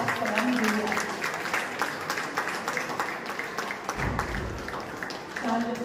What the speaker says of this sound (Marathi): आपण सगळ्यांनी जोरदार टाळ्यांनी त्यांच्या कार्यक्रमाला एक जोरदार सलामी देऊया